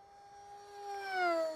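A Durafly Rare Bear RC plane makes a full throttle pass, its high motor whine steady at first, then rising in loudness and dropping in pitch as it rushes close by.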